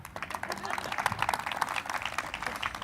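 Steady clapping from a seated audience at a company launch event, moderately loud and continuous throughout, with crowd noise mixed in.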